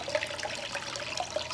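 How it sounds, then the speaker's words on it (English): Gentle, continuous trickle and splash of water spilling from the cone-shaped spout of a small DIY tabletop pond fountain into its bowl. The sound is soft and steady, with no voices. "So the tighter it is, the more outward the water flows."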